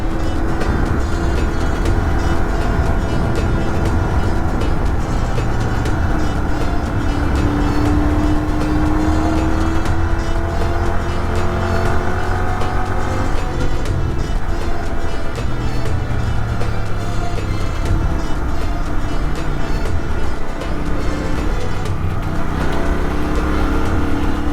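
A Royal Enfield Continental GT650 motorcycle rides twisty roads with a loud, steady engine drone that rises and falls in pitch through the bends, heavy rushing wind noise over it, and no voices.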